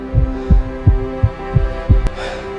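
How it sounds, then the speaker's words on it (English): A pounding heartbeat: about six deep, regular thumps, quick and close, over a low steady hum with a brief bright swish near the end. "my heart pounding wildly."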